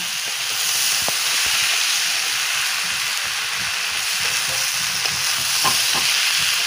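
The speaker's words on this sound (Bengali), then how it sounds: "ভালো করে এটাকে নাড়াচাড়া করবো ভালো করে ভেজে নেবো" Murighonto mixture with ginger paste frying in a pan, a steady hissing sizzle with scattered clicks and scrapes of stirring, close and continuous with no voices.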